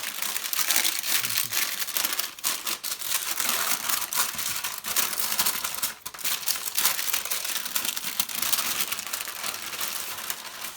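Baking paper being peeled off a freshly baked chocolate sponge cake for a yule log, steady close crinkling and crumpling that runs continuously with a brief dip midway, no talking.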